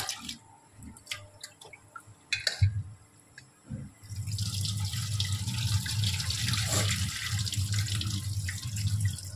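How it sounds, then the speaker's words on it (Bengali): Rice for chicken biryani is rinsed under running tap water in a sink: soft splashes and drips at first, then a steady close rush of flowing water, no voices. "ভালো করে পরিষ্কার করে ধুয়ে নেবো আমি চালটা।"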